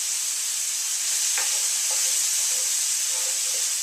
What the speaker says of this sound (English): We're going to saute this off.